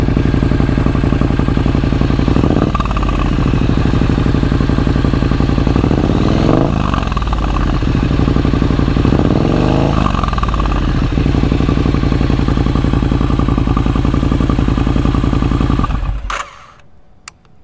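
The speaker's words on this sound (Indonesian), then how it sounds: "cek sound dulu ya, seperti apa ya suara knalpotnya" A modified Triumph Street Scrambler 900 motorcycle idles loudly up close, its exhaust rumbling steadily. Three sharp throttle blips rise and fall at intervals before the engine cuts off near the end.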